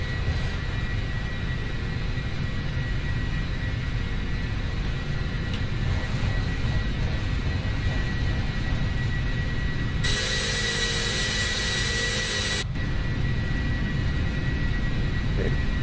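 A Boeing 747 freighter makes its takeoff roll in a flight simulator, a steady loud engine roar and rumble that holds constant throughout, with a brief tonal whine partway through.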